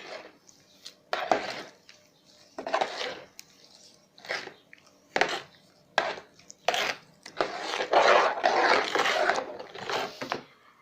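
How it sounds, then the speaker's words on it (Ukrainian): Adjika with sugar and salt is stirred in a pot, giving repeated scraping, clattering strokes in irregular bursts, close and moderately loud. "Тепер гарно розмішуємо."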